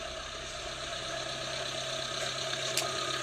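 A 1994 Suzuki Samurai engine idles steadily with a low, even hum and no revving, close by and alone.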